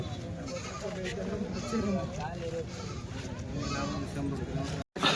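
Goats bleating repeatedly amid a bustling livestock market crowd just after Bakri Eid, with constant chatter and people talking close by, the animal calls rising over the busy hubbub.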